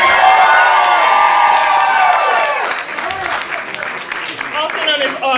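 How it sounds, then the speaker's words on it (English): Audience at a Halloween burlesque revue show cheering and clapping for a performer, a dense crowd roar with whoops and shouts that stays loud throughout and thins slightly toward the end. "ladies and gentlemen, a round of applause for Melody Magpie"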